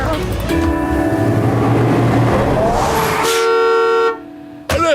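A cartoon bus pulls up, its engine and horn tooting through a busy animated scene before cutting off, with music and effects around it and a brief pause near the end.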